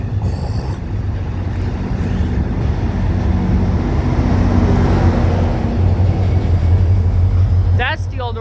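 A MARC express train runs through Halethorpe station without stopping, making a loud, steady rumble and roar that builds and holds close by, with a brief voice at the end.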